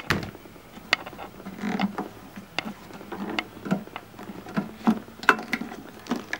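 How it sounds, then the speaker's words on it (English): Screws being taken out of a 2015 Subaru WRX headlight housing, heard as quiet, irregular ticks, clicks and light creaks close by, with no talking. "So we're going to take those screws out and then we will start separating."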